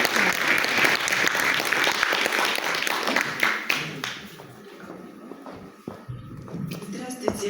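Applause from a hall audience greeting a regional delegation at a festive gathering, loud dense clapping for about four seconds that then fades into shuffling, footsteps and scattered taps.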